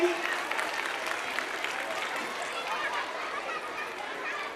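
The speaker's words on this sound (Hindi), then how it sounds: "तालियां बजाइए।" Audience applause at a school annual function, a broad steady wash of clapping with light chatter underneath, holding evenly to the end.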